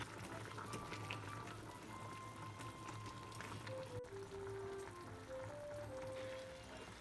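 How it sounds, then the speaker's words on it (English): Soy sauce chicken wings and daikon in a pot coming to a boil, a steady faint bubbling simmer that runs without a break throughout, quiet and close, with no talk. "So it comes to a boil now."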